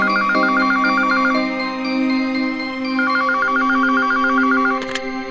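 A landline telephone rings in two loud electronic trilling bursts separated by a short pause, with a steady hum underneath and a brief click at the end.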